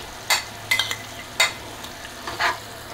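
Almond paste made with milk is stirred into melting sugar in a pan, giving a few short scraping strokes over a faint low sizzle, close by and without any talking.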